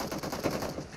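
Rapid automatic gunfire from PUBG Mobile on the Library map in gun game mode, a dense, steady burst of shots filling the whole second at close range.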